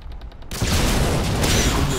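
A grenade blast in a military shooter video game, with a sudden loud explosion that cuts in after a short quieter stretch of gunfire and then rolls on as a dense, sustained roar.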